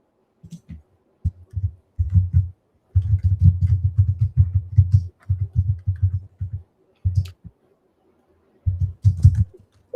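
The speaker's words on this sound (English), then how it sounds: "I'm typing slow and it is the silent keyboard." Slow typing on a silent keyboard makes soft, muffled, close-up thuds that come in bursts of several keystrokes, separated by short pauses.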